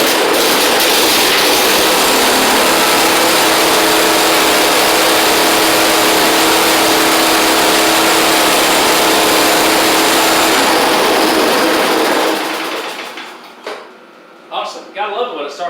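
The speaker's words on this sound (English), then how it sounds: "we'll start back without any choke" A snowblower engine, started without choke after five years in storage, runs loudly and steadily for about twelve seconds before cutting off, leaving a few faint knocks and rattles.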